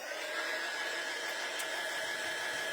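A hair dryer blows continuously to dry craft kit pieces, a steady, close whirring hiss with a faint high whine and no talk.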